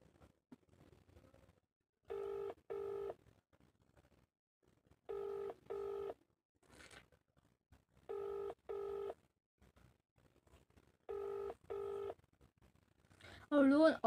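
An outgoing phone call rings unanswered, giving four faint paired ringback pulses at steady intervals of roughly three seconds, with quiet background murmur between them.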